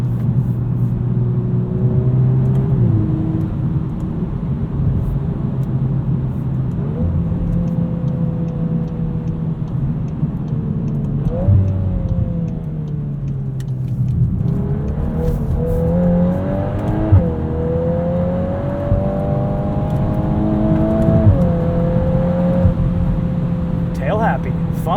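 A 2022 Volkswagen Golf R with DSG gearbox revs and pulls in drift mode, engine tone rising and falling through gear changes and throttle blips, loud and close inside the cabin, with intermittent talking over it.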